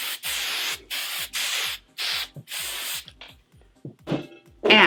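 Wet spray hisses onto a spiked wig in five quick bursts, each pump followed by a short mechanical click, followed by faint handling noises.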